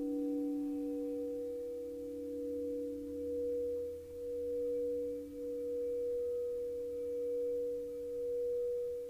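Crystal singing bowls tuned to 432 Hz hold a steady, pure ringing tone with a gently pulsing swell, sustained and fairly soft throughout, with no voices.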